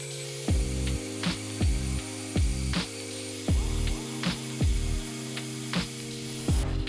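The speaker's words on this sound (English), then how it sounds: "So now I'll go back to the belt grinder and I'll keep the variable speed really low and run through all the belts." A variable-speed belt grinder runs at low speed over a Bowie knife blade, a steady motor hum broken by rhythmic repeated strokes of metal against the abrasive belt, close and moderately loud.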